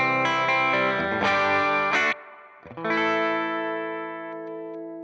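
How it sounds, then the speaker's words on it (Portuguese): Electric guitar through a Keeley compressor with added clipping on a Valeton GP-5, sustained distorted chords ringing out, a brief choked gap, then another long chord slowly fading, loud and alone. "E aumentar a clipagem, porque eu gosto quando o compressor distorce um pouquinho."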